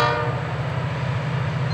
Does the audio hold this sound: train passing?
yes